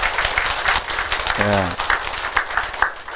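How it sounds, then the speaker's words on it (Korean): A church congregation at an evangelistic revival meeting applauds, a steady wash of many hands clapping throughout, with a voice briefly speaking over it. "박수."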